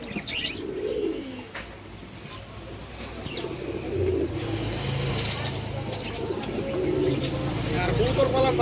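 Local deshi pigeons kept for sale coo in soft, rolling phrases at intervals, with a low traffic rumble and some background voices underneath.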